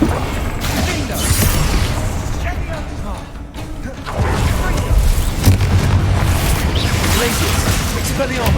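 A Confringo fire spell explodes in the PS5 game Hogwarts Legacy, loud rolling booms and blasts continuing nearly without pause over dense battle noise.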